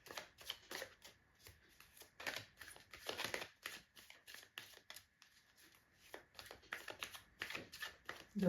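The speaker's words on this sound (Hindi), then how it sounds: "जब तक मैं शफल कर रही हूँ" Tarot cards being shuffled by hand, a soft, quiet riffling and flicking that comes in repeated short bursts with brief pauses between them.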